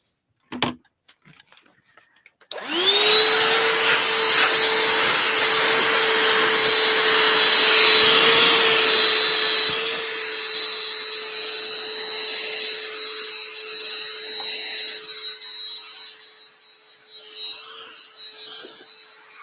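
A vacuum cleaner cleans up fabric fluff from a Cuddle quilt kit, starting with a click, then a steady close whine and roar with a high tonal hum that runs on and eases slightly partway through.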